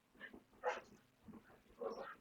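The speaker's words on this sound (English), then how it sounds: "I can hear the dogs playing." Dogs playing somewhere nearby, with soft yips, whimpers and small barks in a few short bursts, faint and a little distant in a quiet room.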